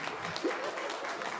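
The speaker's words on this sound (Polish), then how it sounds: "Słuchajcie, wielkie brawa." Brief burst of clapping from an audience at a Christmas show about the queen's colourful tree, steady and moderately faint, with some background chatter mixed in.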